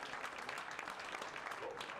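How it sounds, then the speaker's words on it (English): Distant, faint crowd applause from a tech week founder event, a soft continuous patter of many hands with some murmuring voices mixed in. "let's give them all a round of applause"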